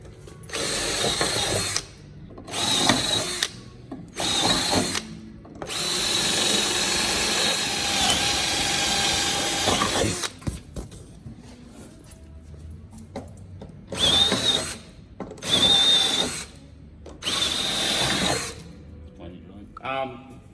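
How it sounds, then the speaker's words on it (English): A power drill whirs in repeated bursts as it drills out the latch on an awning bracket during a vehicle awning bracket install, close and loud, with one long sustained run and short starts and stops, some talking heard alongside. "That's going to get drilled out and removed and replaced back around here on this bracket as well"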